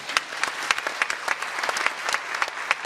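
A round of applause from an audience at a community talk on electrification in Greater Bendigo, with distinct, fairly sparse hand claps ringing out at moderate volume.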